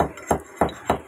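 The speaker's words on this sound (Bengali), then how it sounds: "এই যে গরম মশলাটা থেতো করে নেবো একটু।" A pestle pounds whole garam masala spices in a kitchen, giving four evenly spaced sharp knocks with a hard, clinking ring, close and alone.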